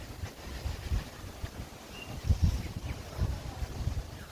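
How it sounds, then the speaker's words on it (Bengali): Strong gusty wind blows under a cloud-covered sky before a morning storm, buffeting the microphone with low rumbling bursts that rise and fall unevenly. "কি জুড়ে বাতাস চালাইছে"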